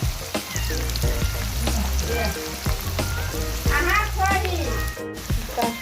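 Onion and spices frying in hot oil for a goat meat curry, loud crackling sizzle with stirring clatter and scraping close up, continuous throughout.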